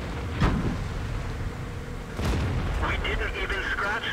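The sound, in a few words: tank gun shot hitting a tank in a video game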